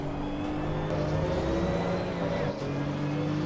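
A racing car engine in a video game drones steadily at a sustained pitch, with a slight rise as it accelerates, loud and continuous with a brief dip partway through.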